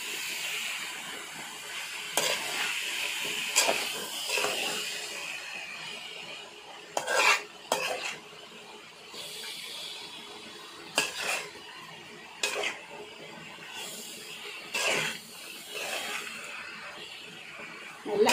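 A utensil stirs and scrapes an egg and cabbage stir-fry in a pan, with irregular clinks and scrapes over a soft sizzle, close and moderately loud, without talk.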